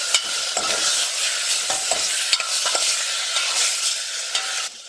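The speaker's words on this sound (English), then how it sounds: "Give the lamb a quick stir." Lamb browns in a hot pan with a loud, steady sizzle close by, broken by several short scraping stirs, and no one speaks.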